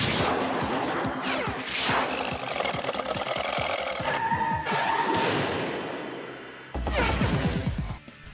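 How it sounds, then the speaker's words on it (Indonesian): Anime race cars slam together in a hard body charge during a practice run, with loud mechanical grinding, rattling impacts and engine roar running continuously, easing near the end before a final burst of noise. "mereka berdua nggak segan untuk saling beradu body charge"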